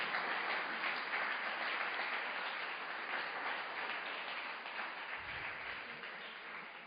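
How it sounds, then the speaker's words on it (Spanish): A church congregation claps during a Wednesday evening sermon, a dense, steady wash of many hands that holds strong for about seven seconds with no voices over it. "Denle un fuerte aplauso a Jesús entonces"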